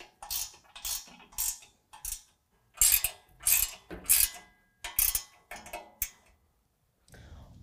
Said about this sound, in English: now we're gonna go ahead and tighten them down with a 13 millimeter